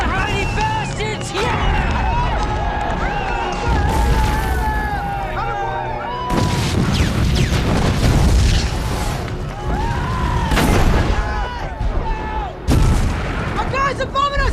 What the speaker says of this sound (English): Our guys are bombing us!